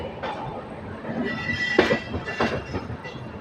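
Locomotive engines roll through Visakhapatnam railway station on their way to couple with trains, giving a steady rumble of wheels with rhythmic clickety-clack and a few sharp squeals over continuous background noise.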